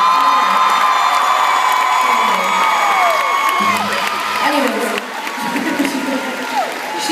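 Concert crowd at a show cheering, whooping and applauding, a dense continuous roar with shrill voices rising above it, dipping slightly near the end.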